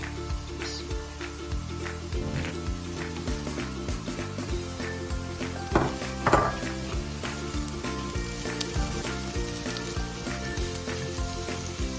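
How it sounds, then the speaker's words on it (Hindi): Onions and potatoes sizzling steadily in a frying pan, a continuous close crackle and hiss with occasional sharper pops and stirring clatter, no talk. "मैंने प्याज को भी हल्का सा फ्राई कर लिया है।"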